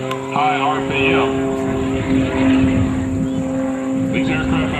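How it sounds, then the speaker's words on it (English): A variable pitch propeller airplane at the Selfridge ANG airshow drones steadily with a loud engine tone as the prop cycles through high RPM during a nose-up maneuver, continuous and near. "The prop kind of cycling through high RPM."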